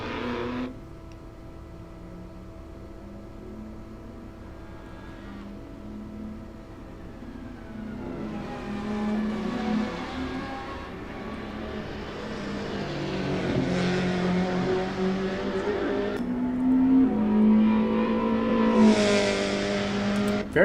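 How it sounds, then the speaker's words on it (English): A 1995 SEAT Toledo touring car climbing a hill at a pre-season test, its engine rising through the revs and shifting gears, growing louder as it nears and then dropping away, with no voices over it. "Very nice sound out of that Toledo."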